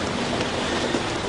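Steady, dense rain pours down in the Congo rainforest, a continuous close hiss of drops on leaves and ground with no voices.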